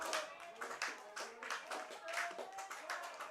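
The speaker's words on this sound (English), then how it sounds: "The claps are starting." A baseball crowd at an IBL game between the Barrie Baycats and Brantford Red Sox claps in a quick rhythmic run, steady and moderately distant, under a commentator's voice.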